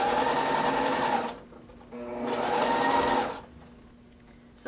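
A sewing machine stitches down the edge of a sweater headband in two loud, steady motor bursts separated by a brief pause, then quiets to a soft hum. No voices are heard.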